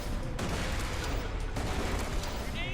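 Grenades exploding in a shooter game, a dense continuous rumble of blasts and crackling fire with sharp onsets around the half-second and one-and-a-half-second marks, loud and close, with some talking mixed in.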